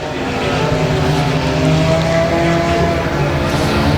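Front-wheel-drive four-cylinder race cars roar off at the green flag of a heat race at Rose Bowl Speedway, a loud, dense, sustained blend of engines heard from nearby without speech.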